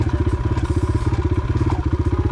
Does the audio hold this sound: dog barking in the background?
no